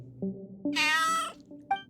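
A voice imitates a cat with a drawn-out, whiny meow followed by a short second mew, close and clear against silence.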